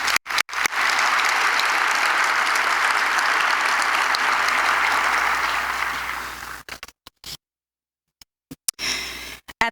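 Sustained applause from a banquet audience at an annual Martin Luther King Jr. community leaders awards event, dense and steady for about six seconds, then breaking into a few scattered claps and short pauses before a brief final burst.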